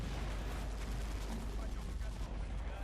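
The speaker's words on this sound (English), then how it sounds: "And now our PPSH motherfuckers are opening fire." Rapid PPSh submachine gun bursts and machine gun fire in the Sudden Strike strategy game, a dense, continuous rattle of overlapping shots that runs unbroken at a loud, steady level.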